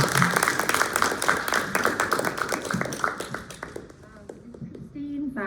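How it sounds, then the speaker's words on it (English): An audience at a community showcase claps and applauds in a dense, lively burst that thins out and fades after a few seconds, as a voice starts up at the end. "We give it up. Clap it up."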